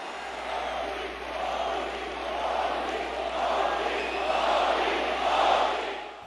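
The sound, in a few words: crowd cheering and chanting Modi's name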